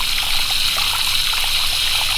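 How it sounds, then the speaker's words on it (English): Water from a garden hose trickling and running behind an ACO channel drain beside a house wall, a steady close splashing flow with no talk. "you can actually see the water's actually running around the back of there"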